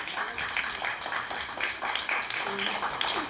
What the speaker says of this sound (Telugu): పిల్లలు ఒకసారి చప్పట్లు కొట్టండి